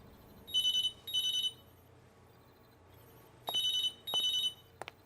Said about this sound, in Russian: Ну-ка, ответь на звонок.